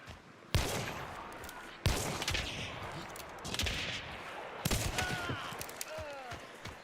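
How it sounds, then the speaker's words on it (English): Repeated gunfire in Hunt: Showdown: several sharp, loud shots in irregular bursts with booming echoes trailing between them, plus faint whistling tones, no talking. "Way too many shots."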